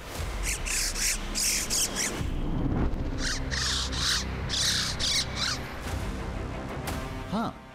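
Bird calls ring out near a high Himalayan lake in Uttarakhand at about 16,000 feet, several harsh squawking, crow-like bursts repeating in clusters with rustling and a faint voice in the background.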